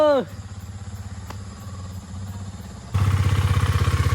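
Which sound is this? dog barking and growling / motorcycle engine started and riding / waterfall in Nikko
motorcycle engine started and riding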